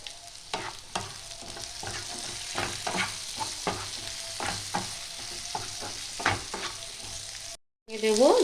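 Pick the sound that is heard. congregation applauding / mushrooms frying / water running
mushrooms frying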